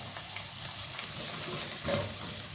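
Chopped onion and capsicum fry in a hot pan for a chilli soya chunks dish, a steady close sizzle with faint stirring scrapes and a slight surge near the end, no talk over it.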